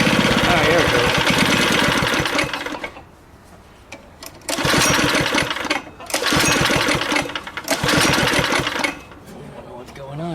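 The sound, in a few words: go kart engine trying to run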